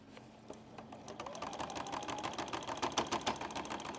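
A sewing machine runs steadily while back-stitching on a quilt over a thick, multi-layered pocket, its rapid needle clatter building slightly in speed and loudness and staying close and continuous.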